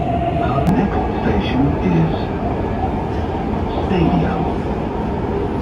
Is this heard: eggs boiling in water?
no